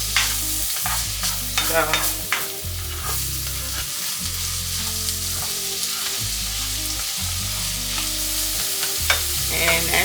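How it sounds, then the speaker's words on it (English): Onions sauté in a pan with a steady, loud sizzle and frequent stirring, running continuously under music with a strong bass line. "I'm done sauteing the onions"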